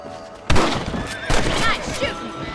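Gunfire in the Red Dead Redemption video game as rabbits are shot: two sharp, loud reports about a second apart, each with a short ringing tail, over a steady outdoor game ambience.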